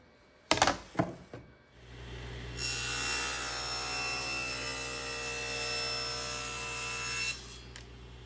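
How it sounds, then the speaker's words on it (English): A saw trims an oddly shaped piece of wood, starting with a few sharp knocks, then a steady, loud whining cut that runs for several seconds before stopping. "let's go over to the saw and start trimming this up"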